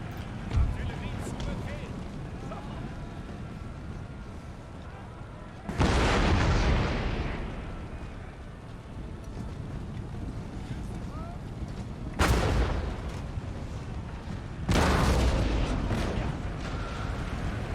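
Artillery fire in Empire: Total War during a Prussia world-domination campaign: three heavy booming volleys burst out over a constant rumble of battle noise, with a voice talking in between.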